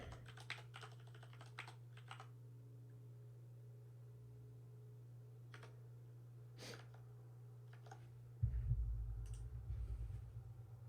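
Keys clatter on a Mac computer keyboard in quiet bursts of rapid typing, with scattered single clicks, over a steady low electrical hum and a brief rumble near the end.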